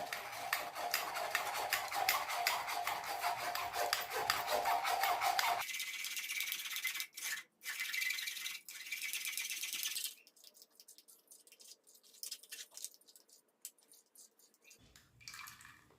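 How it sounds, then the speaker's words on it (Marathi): Bottle gourd juice streams through a kitchen sieve in a steady, close pour, then thins to softer trickles, drips and faint rattles of the strainer. "हे पहा अशा चाळणीच्या साह्याने आता हे आपण गाळून घेऊ शकतो"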